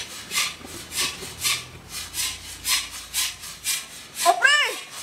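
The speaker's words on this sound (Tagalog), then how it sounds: "ang aga-aga, may naglalagari ah" A hand saw cutting through metal bars, with steady back-and-forth strokes repeating at a regular rhythm, clear and fairly close, and a brief voice near the end.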